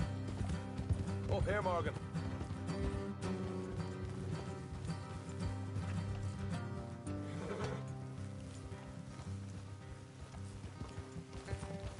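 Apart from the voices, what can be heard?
horses riding on a road, from a video game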